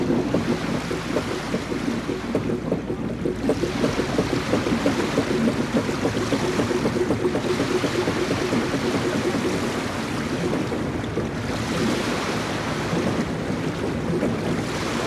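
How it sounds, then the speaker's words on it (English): Boats and waves at Gloucester's inner harbor beside the Coast Guard station: a steady washing rumble of water and wind noise with a low hull or engine drone, continuous and with no voices. "The Coast Guard station is located just off Main Street, next to Gloucester's inner harbor"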